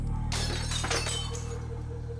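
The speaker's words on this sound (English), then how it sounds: "At the same moment, there was a sound of broken glass," Glass shatters during a nighttime burglary of a house. A sudden loud crash is followed by a spray of tinkling fragments that fades over about two seconds.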